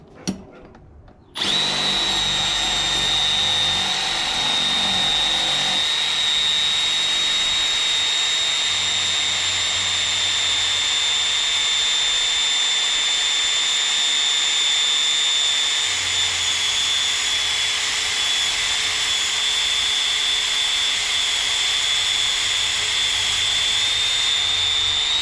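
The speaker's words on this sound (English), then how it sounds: "A little Milwaukee M12 fuel driver, still doing really good." A Milwaukee M12 Fuel 12-volt driver runs continuously at high speed, a loud, steady whirring whine with a sharp electric pitch after a brief start, holding for over twenty seconds without talk.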